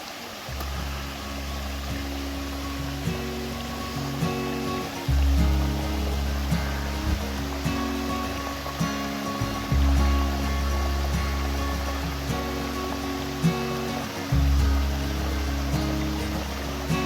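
Steady roar of rushing water from a waterfall in Shenandoah National Park, a continuous broadband wash heard alone with a low rumble that swells in a few surges.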